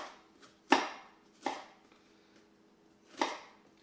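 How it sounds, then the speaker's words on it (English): A knife cutting through an onion on a cutting board while it is prepared for homemade onion powder, three distinct close chopping thuds spaced unevenly in a quiet room. "I like to cut the core out of the onion as well."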